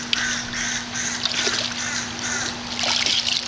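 Water splashing as a young boy named Bradley swims and ducks under the surface at a pool, a steady run of close splashes and churning water with a soft constant hum beneath.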